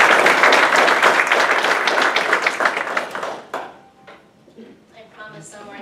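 A room of people applauds a speaker at a local business gathering, with dense clapping for about three seconds that quickly tapers to scattered claps before someone begins to talk.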